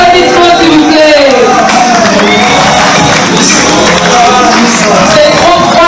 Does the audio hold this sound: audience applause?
yes